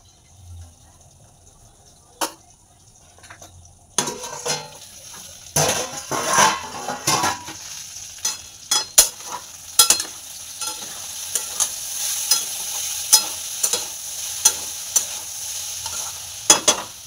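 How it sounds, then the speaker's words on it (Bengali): Ridge gourd stirred and fried with mustard and tempering spices in a pan, quiet at first, then a sizzle with frequent sharp scraping strokes of the spatula, close and fairly loud. "ফোড়নে দিয়ে সর্ষেটা দিয়ে নেড়ে চিচিঙ্গাগুলো দিয়ে দিই"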